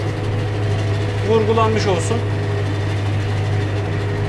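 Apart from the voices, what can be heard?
tractor engine running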